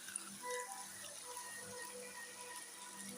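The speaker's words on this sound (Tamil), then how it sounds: "இப்போ சிக்கனுக்கு தேவையான தண்ணி ஊற்றிக்கலாங்க." Water is poured into a pan of chicken gravy, a light, steady trickling splash that runs for a few seconds, close and fairly quiet.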